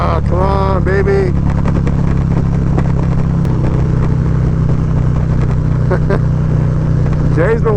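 A Harley-Davidson Street Glide with a stage 4 build runs on the road at about 4,000 RPM, a steady deep engine drone with wind noise underneath and brief vocal sounds over it.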